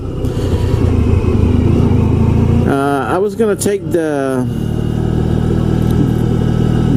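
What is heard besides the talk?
1994 Honda ST1100 motorcycle engine with drilled exhaust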